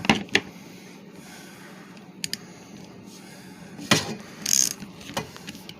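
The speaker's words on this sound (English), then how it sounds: "I prefer to use the wrench. It just tightens it up faster." A wrench tightens a dishwasher hose connection during installation, giving a few scattered ratcheting clicks and metallic ticks, close but modest in level, with quiet pauses and no talking.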